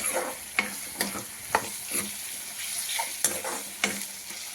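Green brinjal with turmeric frying in a pan, a steady close sizzle broken by sharp scraping stir strokes roughly every half second, with no voices.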